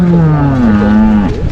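A single loud, close dairy cow moo on a farm, a deep drawn-out low call that slides slightly and ends abruptly.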